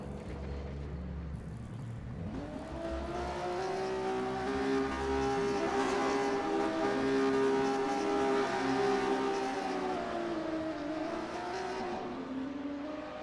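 A race car engine in a racing video game revs up and holds a high, loud drone, its pitch shifting through gears and fading slightly near the end, with no talk.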